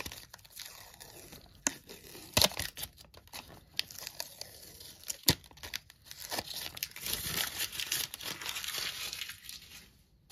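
Tape peeled from a silicone tire mold cast in Smooth-On Mold Star 31T, giving crinkling, tearing rips with sharp crackles near 2.5 and 5.3 seconds and a longer steady peel toward the end, close and fairly quiet.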